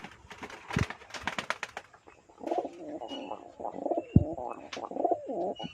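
A pair of biscuit-coloured performing pigeons at a loft coo in soft, repeated bursts, close and moderately loud. Sharp flutters and clicks come first, and no one speaks.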